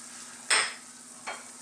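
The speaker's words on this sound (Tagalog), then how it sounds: "Haluin na po natin." Chicken guisantes being stirred in a pan after fish sauce, pepper and salt go in: two short scraping strokes over a low, quiet sizzle with a faint steady hum.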